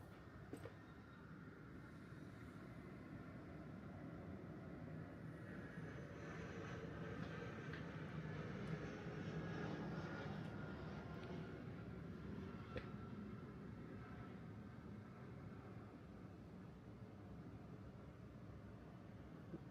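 A jet airliner flying near an airport in a Chinese city produces a faint, steady broadband roar heard from indoors. The roar swells gently toward the middle of the clip and then eases off, with no talking.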